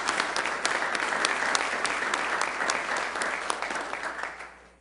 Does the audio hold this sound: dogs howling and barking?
no